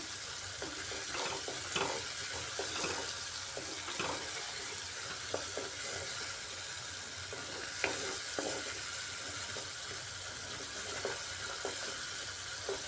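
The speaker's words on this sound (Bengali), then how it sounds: "শস্যটাকে একটু কষিয়ে নিচ্ছি" A spice mixture for pointed gourd curry sizzles and fries in a pan, with scraping stir strokes and small crackles over a constant hiss, fairly quiet and with no talking.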